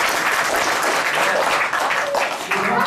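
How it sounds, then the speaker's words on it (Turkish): An audience at a scholarship presentation for a student breaks into dense, sustained applause, a loud wash of many hands clapping at once with faint voices mixed in underneath. "Bir alkış."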